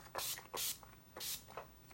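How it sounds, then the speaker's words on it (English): Finishing spray hissing onto hair from an aerosol can, three short close bursts at a steady rhythm with brief pauses between. "Now I'm just gonna throw a little finishing spray on here."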